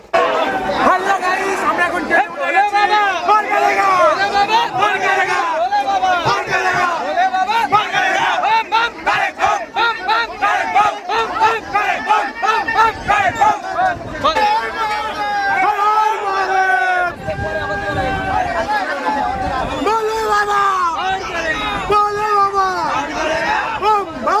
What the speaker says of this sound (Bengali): আমরা এখন ট্রেনে উঠে গেছি, কিন্তু ট্রেনে প্রচুর ভিড়।